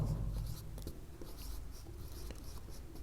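A pen scratches steadily across paper as a definition is written out by hand, a faint, continuous rustle with no talking.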